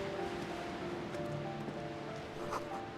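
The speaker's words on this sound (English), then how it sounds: "Waves crashing in the darkness." Steady dark ambience of waves crashing somewhere unseen in Disco Elysium, a faint continuous wash of surf and wind with no distinct breaks, heard alone.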